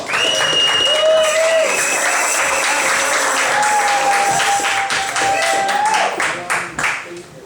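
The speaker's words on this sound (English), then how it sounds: "Ladies and gentlemen, give him a round of applause." A crowd at a live stage show claps and cheers in a round of applause for Jason, with whoops and voices rising over the steady clapping before it tapers off.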